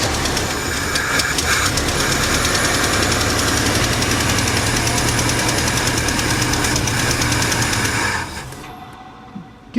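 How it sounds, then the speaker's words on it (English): A 1976 Mercury Marquis V8 engine is held at high idle, a loud, steady, knocking mechanical drone that runs for about eight seconds and then drops away as the revs fall. "go ahead and try to hold the RPMs up a little bit, Terry"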